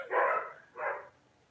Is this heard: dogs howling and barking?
yes